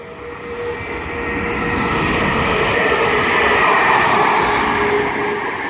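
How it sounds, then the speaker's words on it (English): A London Midland Class 350 electric multiple unit passes South Kenton station on the West Coast Main Line slow line, a steady, loud rolling rumble and whine that swells and stays close throughout, with no voices. "now behind the box we have London Midland 350."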